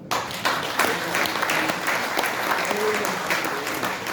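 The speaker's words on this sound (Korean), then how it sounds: "서로가 박수 한번 치시죠" Dense audience applause fills a hall at a Korean political movement launch rally, many hands clapping steadily together for about four seconds with no speech over it.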